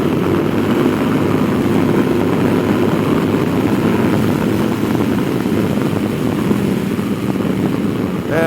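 A 2006 Ducati SuperSport 800 ridden in sixth gear, a steady loud engine drone with wind rush from the rider's position, unbroken and without speech.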